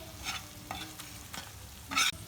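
Liver and gizzard pieces frying in a pan over low heat. A spatula stirs and scrapes in short bursts over a soft, steady sizzle, ending with one louder scrape, and no one speaks.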